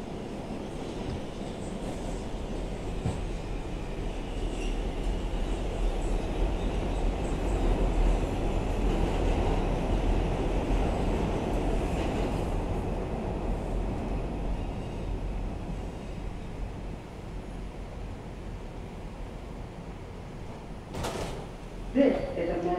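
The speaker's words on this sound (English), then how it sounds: "This is a Manhattan-bound 2 train." An R142 subway train on the Manhattan-bound IRT 2 line in Brooklyn, riding near Sterling Street, gives a steady, loud interior roar of wheels and motors, ending with a sharp metallic clatter.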